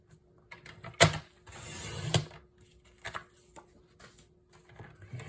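A sheet of patterned paper is sliced on a paper cutter, a crisp click and then a steady scraping blade pass ending in another click, followed by light handling taps in a quiet room.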